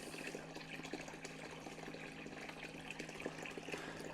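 Water runs steadily through a sluice box washing gold paydirt from 1960s Randsburg, California, a constant broadband rushing and gurgling with no talk over it.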